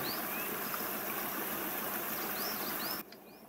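A waterfall rushes steadily in Euro Truck Simulator 2 with the Promods map, a loud, dense wash of water joined by a few bird chirps before it cuts abruptly to a quieter background near the end.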